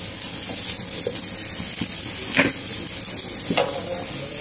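Food fries in a pan with a moderate, steady sizzle, broken by a few soft clinks and stirring scrapes close by.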